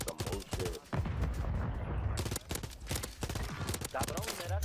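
Gunfire in Call of Duty Warzone (MW3), loud rapid bursts and overlapping shots from enemy fire mixed with dense game noise, a voice talking in between.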